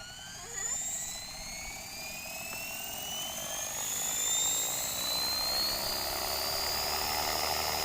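An ALZ RC X360 H1 model helicopter spools up, its high electric whine rising steadily in pitch and loudness over several seconds, close by and alone.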